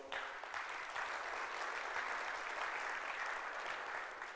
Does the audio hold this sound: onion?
no